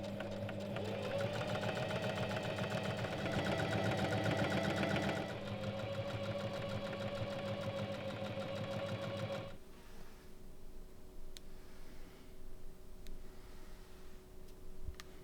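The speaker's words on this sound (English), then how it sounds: "Finally, edge stitch the hem in place and give it one last press." A sewing machine runs in a steady rapid clatter while edge stitching a fabric robe hem, then stops after several seconds, leaving a faint low hum and a few light clicks.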